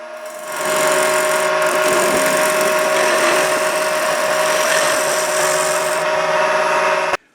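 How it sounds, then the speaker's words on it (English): A skew chisel makes a flat planing cut on wood spinning on a lathe, giving a loud, continuous motor hum with a steady hissing cut across the whole stretch, close up and uninterrupted before stopping abruptly. "that's the essence of using a skew for making a flat planing cut where you're trying to get the wood even all the way across"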